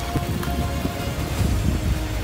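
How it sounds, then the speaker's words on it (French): Hailstones fall steadily outdoors, a dense rattling patter of small hard impacts with faint wind, no voices. "Il y a de la grêle, j'ai trouvé de la grêle."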